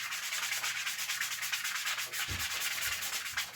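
Close, continuous rhythmic scrubbing of a sanding sponge rubbing back and forth over a weathered antler shed, removing moss, with an occasional soft knock.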